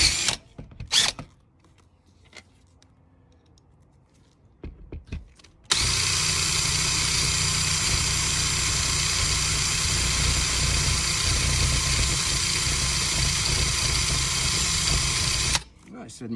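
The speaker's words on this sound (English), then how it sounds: "give you a sense of how much easier it is to drill these they're self-tapping" A drill drives self-tapping screws while mounting a Maxxair fan on a Sprinter van. Faint clicks and handling come first, then a loud, steady whirring run of about ten seconds stops sharply.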